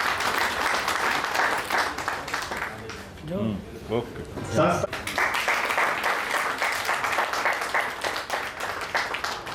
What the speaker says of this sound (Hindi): तालियों की आवाज थोड़ी जोर से आनी चाहिए.